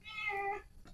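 A cat gives a single clear, drawn-out meow, close and fairly loud, with its pitch falling toward the end before a brief soft sound follows.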